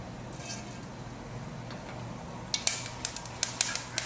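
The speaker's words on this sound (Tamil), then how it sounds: "மஸ்டர்ட் சீட்ஸ் கொஞ்சம் ஆட் பண்ணிக்கலாம்." Mustard seeds crackle in hot coconut oil while a spicy tapioca fry is being made: a quiet low hum at first, then a burst of sharp, irregular pops in the last second and a half.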